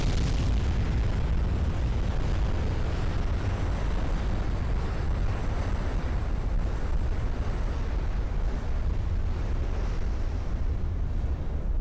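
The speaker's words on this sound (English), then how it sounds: "Oh, and we get the flash fire." A ship's flash fire in the naval game Ultimate Admiral Dreadnoughts erupts into a sustained, rumbling explosive roar, broadband and loud, holding steady like a continuous blast with no talk on top.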